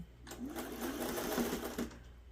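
A sewing machine stitches a seam on a quilt block in one steady, close, fast-running burst of about one and a half seconds, starting and stopping cleanly.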